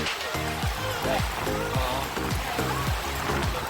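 Steady broadband hiss of heavy rain pours continuously, with a low rhythmic thumping and a voice faintly present underneath.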